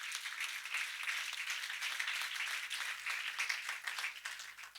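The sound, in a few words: congregation applause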